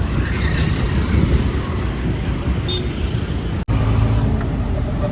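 Road traffic passing on a city street, a dense steady rumble of engines close by with a brief dropout near the end.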